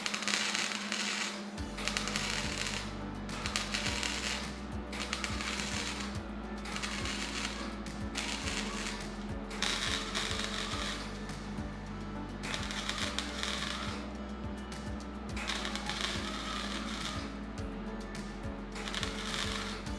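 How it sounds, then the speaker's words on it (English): Welding on a stock Subaru WRX STi up pipe gives a steady, continuous crackling buzz with an underlying electrical hum that lasts throughout, close and fairly even in level, with no talking. "Let's get this thing welded up."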